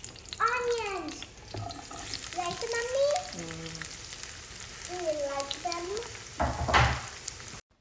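Mutton liver frying in hot oil in a pan, giving a sizzling hiss that swells loudest near the end. Tonal, voice-like sounds weave above it throughout.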